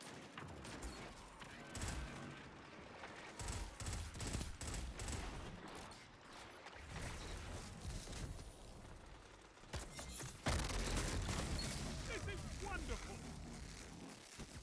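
A pulse rifle in the Destiny video game fires in steady rapid bursts throughout, loud and continuous, with a narrator talking over the shooting.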